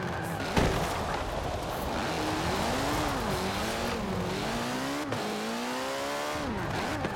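A Rally Monsters car in Forza Horizon 4 drives close and loud through a speed zone. The engine revs rise and fall in pitch with shifting gears, and there is a sharp knock near the start.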